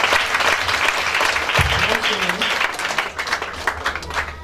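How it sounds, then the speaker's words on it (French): A church congregation at a Sunday spiritual retreat bursts into loud, sustained applause and cheering for the Lord, with a dense wash of clapping, raised voices and shouts throughout. "Est-ce qu'on peut acclamer le Seigneur?"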